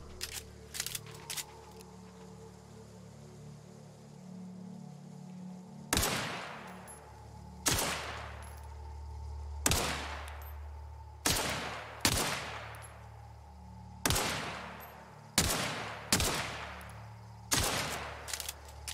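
Gunfire in The Outer Worlds video game, a series of about ten sharp, loud single shots spaced roughly a second or two apart, each with a short decaying tail, over a faint low background hum.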